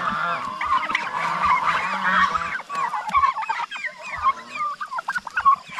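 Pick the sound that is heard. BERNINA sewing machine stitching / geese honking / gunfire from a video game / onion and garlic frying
geese honking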